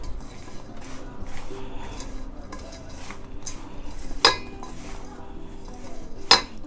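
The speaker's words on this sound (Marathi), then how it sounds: "सगळं मिश्रण मी आता एकत्र करते." Moong dal laddu mixture being stirred together in a metal pot, with steady scraping and spoon clatter throughout and two sharp metallic clinks standing out near the end.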